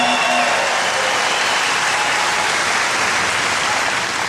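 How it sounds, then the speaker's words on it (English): A large crowd at the North Houston Tea Party claps continuously, a dense, loud wash of applause holding steady throughout. "Give yourself a big round of applause."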